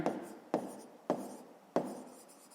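Chalk or marker strokes on a classroom board during a maths lesson, four sharp scraping marks evenly spaced, each fading quickly, no speech.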